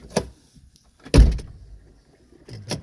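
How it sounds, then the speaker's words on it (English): Quick mechanical whirs and clunks inside a WagoVan as both seat belts retract, a short zipping retraction followed by a louder thunk, then another brief whir near the end. "both seat belts return and retract."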